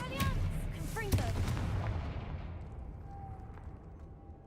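A fiery Confringo blasting spell from Hogwarts Legacy bursts with a loud, booming explosive crack, followed by a rumbling decay that fades slowly over several seconds.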